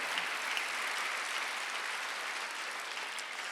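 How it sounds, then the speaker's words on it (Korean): A church congregation at a Sunday worship service claps steadily, an even, moderately distant wash of applause with no talking over it. "박수 세게 치시라요."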